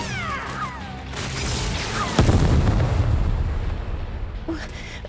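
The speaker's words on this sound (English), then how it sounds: "Analyzing audio data, estimating explosion source, finding location." An explosion in the video game Seven Knights 2, a deep booming blast that swells and rumbles on after a few whooshing effects, loud and sustained.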